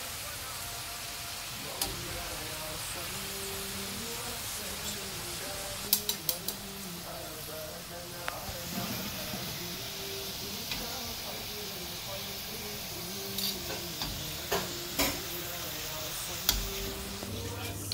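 Potato french fries deep fry in oil with a soft, steady hiss and bubbling, moderately quiet. Scattered clinks and taps of utensils punctuate it, and a low murmur runs underneath.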